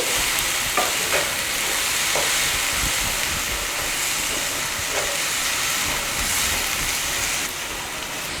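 Onion paste sautés in a hot pan, a loud broadband sizzle and hiss running throughout, with faint stirring clicks now and then and no talking.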